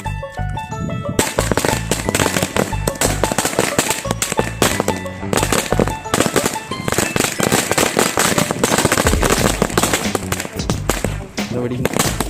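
A long string of 1000-wala firecrackers bursts in rapid, dense crackling pops during Diwali, loud and relentless for several seconds, with voices faintly mixed in.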